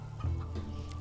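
A chicken gives a short, quiet cluck in a zombie survival action game, one brief burst over a soft, steady background hum.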